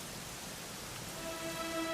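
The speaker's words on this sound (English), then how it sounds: "it was raining like this the last time I ever saw her" Steady rain falling in the video game Dragon Quest XI, an even, close hiss of drops on surfaces running throughout with no voices, while a faint sustained musical tone rises in the second half.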